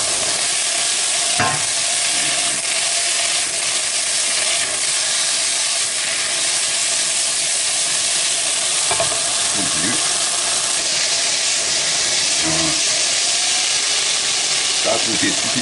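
Shrimp fry loudly in a pan with a constant sizzling hiss while a utensil stirs and scrapes them in several distinct clattering strokes.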